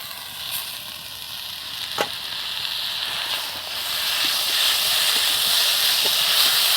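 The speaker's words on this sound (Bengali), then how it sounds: "এক চামচ হলুদ দিয়ে দেবো এবার কচু শাক সেদ্ধটা দিয়ে দেবো" Boiled taro greens hitting a hot pan seasoned with turmeric, giving a steady hissing sizzle that grows a little louder toward the end, with a few faint clinks and no talking.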